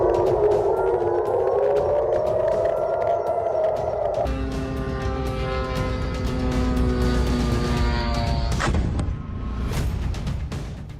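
An air raid siren at a US airbase in Jordan wails with a long rising and falling tone over dense background noise and rumble, loud and continuous throughout.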